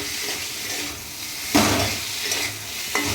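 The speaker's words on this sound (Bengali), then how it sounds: "এবার আমি একটু কষে নেবো হালকা করে" Spices with tomatoes stir-fried in a pan, giving a continuous hiss of frying with sharp scraping strokes from a spatula at intervals, close and fairly loud, with no voices.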